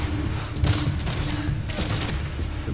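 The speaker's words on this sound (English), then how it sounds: "One fence they're using for cover takes 836 rifle shots." Rapid rifle volleys crackle in a Gettysburg battle reenactment, dense overlapping Civil War musket shots firing close and loud throughout without pause.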